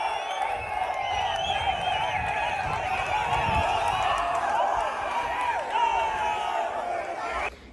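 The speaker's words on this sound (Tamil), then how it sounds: "எவ்வளோ கைத்தட்டல் எவ்வளோ ஆரவாரம்" A large crowd at an AIADMK political rally cheers, whoops and applauds in a steady, sustained roar, with voices heard amid the noise.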